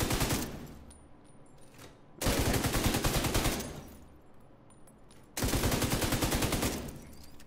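Light machine gun in The Division 2 video game fires two long sustained bursts of rapid automatic shots, loud and close, separated by a quieter pause, with no talking.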